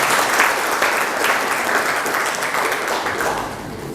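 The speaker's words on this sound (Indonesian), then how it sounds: "Beri aplaus dulu untuk Dede" A classroom audience claps for a student named Dede, a dense burst of applause that fades slightly toward the end.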